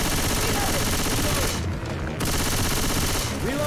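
Dense, continuous blaster and gunfire in a Star Wars video game, loud and close, with rapid overlapping shots and a brief lull before the barrage resumes.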